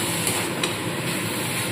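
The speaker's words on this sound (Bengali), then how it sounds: "তো এইবার খুব ভালো করে এই চিংড়ি মাছের সাথে মশলাটাকে সম্পূর্ণ খুব ভালো মতো কষিয়ে নিতে" Tiny shrimp fry with spices and a little sugar in a pan, making a dense, steady hiss with a couple of soft utensil taps close by.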